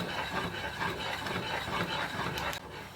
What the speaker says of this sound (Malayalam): അതുവരെ നമുക്ക് അടി പിടിക്കാതെ നമുക്ക് ഇളക്കി നോക്കാം.